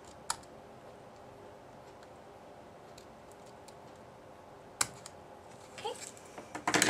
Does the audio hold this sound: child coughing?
no